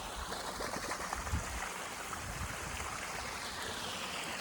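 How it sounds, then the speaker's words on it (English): Full-flow water gushing from a 2-inch pipe at an off-grid build site, a steady, broad rushing and splashing that stays constant throughout without any voices. "It's full flow, 2 inches of water,"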